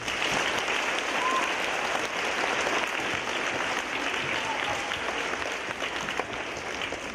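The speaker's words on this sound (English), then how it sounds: "Let's give them another round of applause." Audience applause at an elementary school Veterans Day program, a sustained dense crowd clapping that fills the room evenly, loud and continuous, with a few faint voices mixed in.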